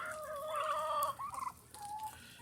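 Barn fowl call close by in a winter barn during an ice melt, a turkey gobbling in a loud warbling run, then softer clucking calls from the other birds, with no talk.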